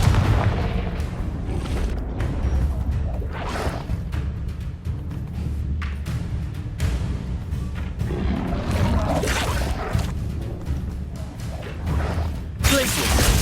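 Repeated Confringo blasting-spell explosions in the Hogwarts Legacy video game, a dense run of loud booms and crashes with whooshing bursts, one blast after another over a steady rumbling battle bed.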